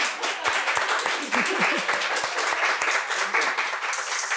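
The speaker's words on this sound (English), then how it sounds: "So Katie, why don't you stand and get an applause from us." Audience applause at an indoor panel event, a steady mid-distance patter of many hands clapping over several seconds, with a speaker's voice over it.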